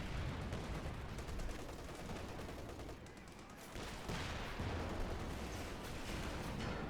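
Dense battlefield gunfire in Company of Heroes 2, rifle and machine gun bursts mixed with heavier artillery-like thumps, continuous and loud throughout with no pauses.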